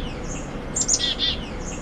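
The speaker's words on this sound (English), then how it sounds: "When a chickadee calls, it sounds like they're saying their name." A black-capped chickadee gives a short call of a few high, thin chirps in quick succession, clear and fairly close, over a faint background hum, with no talking.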